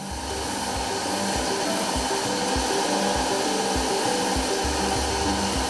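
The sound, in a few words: sanding machines smoothing carved sculptures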